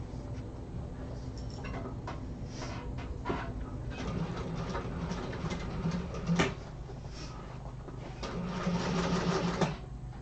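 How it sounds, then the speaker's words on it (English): Sewing machine stitching a straight line along a fold in binding, with several short runs broken by stops and light handling clicks, close and steady. "I'm just going to sew along that fold line."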